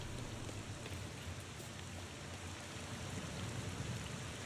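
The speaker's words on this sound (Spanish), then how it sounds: "Un funeral con lluvia" Steady rain falling at a funeral in the video game The Thaumaturge, a dense even hiss of drops on surfaces with a low rumble underneath, continuous and fairly quiet with no voices.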